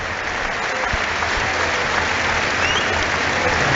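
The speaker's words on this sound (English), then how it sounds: "we're going to have a moment's applause as well to thank those who have served" A rugby league stadium crowd at a Salford Red Devils versus Wigan Warriors Super League match applauding, a dense, sustained wash of distant clapping that holds steady throughout.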